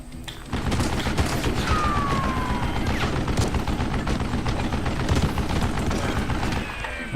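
Minigun in the Call of Juarez: Gunslinger video game blazing away in a long, continuous rapid-fire stream, loud and steady with ricochet whines and clattering shots over several seconds, then briefly easing.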